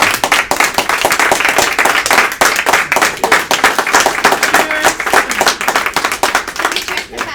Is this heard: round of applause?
yes